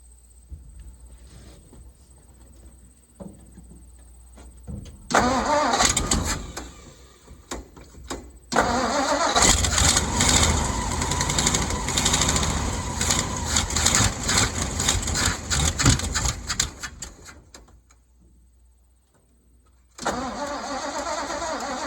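An old dump truck engine cranks and catches, fires up loudly and runs roughly for several seconds, then dies away to near quiet before restarting and running again. No speech is heard.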